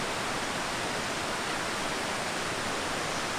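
A flowing river at a creative retreat gives off a constant, broad rushing roar with no breaks, close and steady like fast water over rocks.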